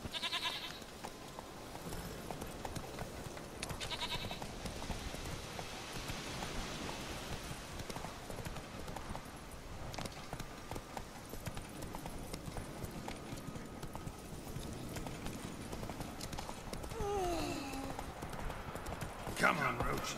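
Hooves of the horse Roach clip-clop steadily in The Witcher 3, an even rhythmic trot under game ambience, with someone talking over it at times.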